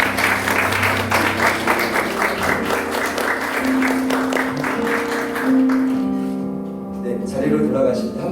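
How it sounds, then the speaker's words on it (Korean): A church congregation applauding at an ordination thanksgiving service as two newly installed deaconesses bow, sustained crowd clapping over a held organ chord that fades toward the end. "이 시간 두 분이 함께 인사하실 때 큰 박수로 축하해 주시기 바랍니다."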